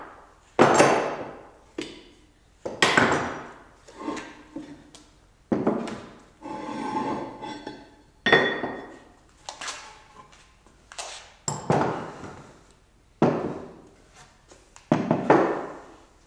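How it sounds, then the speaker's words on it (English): Clamps and weights come off a glued maple guitar top in a workshop: a series of separate loud knocks, clanks and thuds spaced a second or two apart, each followed by brief quiet. "let's pull all of the clamps and all the weights off of this and have a look at our top"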